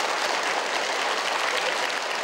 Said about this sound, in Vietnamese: chúng ta sẽ dành một tràng vỗ tay để chúc mừng cho chú